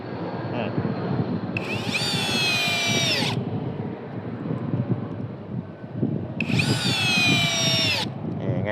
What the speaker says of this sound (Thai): เจาะนะ จมเข้าไปง่ายๆเลยนะครับ